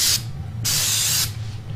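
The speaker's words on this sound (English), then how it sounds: "I'm going to be using Magnum Force 2 electronic cleaner to clean my plastics. Yeah, I'm just going to spray it." Magnum Force 2 electronic cleaner sprays onto dirt bike plastics in two close, loud hissing bursts, a short one followed by a longer one after a brief pause.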